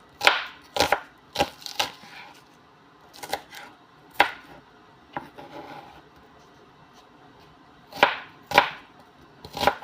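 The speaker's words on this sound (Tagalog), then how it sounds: "So una muna itong sibuyas natin hihiwain natin pang laswa or pang sinabaw na gulay" An onion being chopped with a knife on a board, with irregular clusters of crisp close knocks and pauses between bursts, alone without talk.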